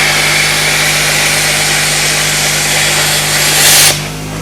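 A 50 amp Arc Captain plasma cutter hisses steadily alongside a running air compressor, a loud continuous broadband rush with a steady low hum that surges briefly near the end before dropping off.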